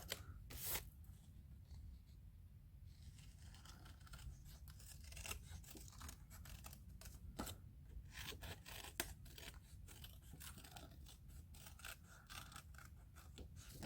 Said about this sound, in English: Just easier to cut curvy things with nail scissors.